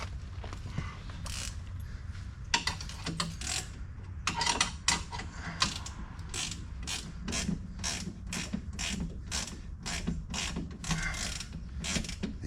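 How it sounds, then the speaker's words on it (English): A ratcheting 15mm wrench turning a bolt on a Dodge Challenger, a long run of quick rhythmic clicks in bursts, close and clear over a low background hum. "there's my ratcheting 15mm."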